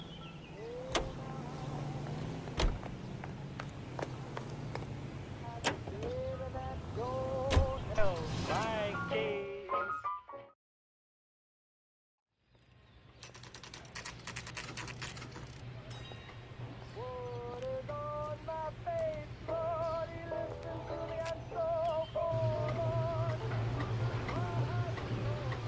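Car driving in the video game L.A. Noire, a steady engine hum and road drone running under ongoing dialogue, cutting out briefly before the drive resumes.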